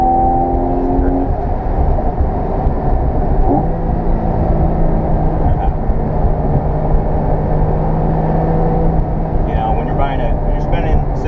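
A 2014 Porsche 911 Carrera engine drones steadily as the car accelerates along a winding road, with a continuous loud hum and rising whir throughout, while a person talks over it.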